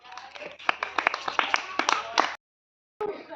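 Schoolchildren in a Marathi classroom clap their hands in a quick, uneven burst of sharp claps for about two seconds, then stop abruptly before voices resume.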